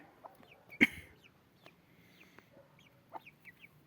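Quiet, scattered clucking and soft chirps from chickens and chicks in an outdoor enclosure nearby, with one sharper squawk early on.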